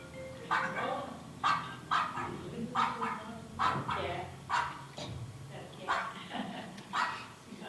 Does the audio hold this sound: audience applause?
no